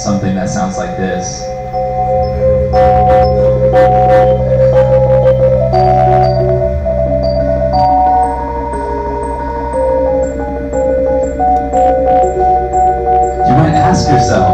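An experimental Arduino-based musical instrument built at a hackathon plays sustained synthetic tones that step through changing pitches, with short beeps and bursts layered over a steady drone.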